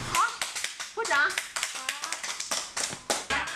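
Elderly residents of a care home clap in a quick run of sharp, uneven claps, mixed with lively voices talking over them.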